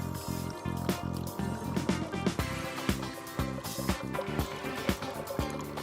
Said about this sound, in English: Move the lever to the cold position. Genio will start rinsing. This can take about 30 seconds.